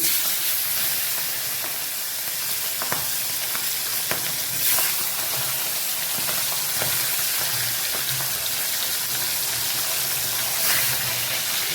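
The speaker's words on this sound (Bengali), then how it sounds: "মাছের মাথাটা ভেজে নিচ্ছি" A katla fish head frying in hot oil in a kadai, giving a continuous close sizzle and hiss with occasional spatters and stirring clinks, no one talking.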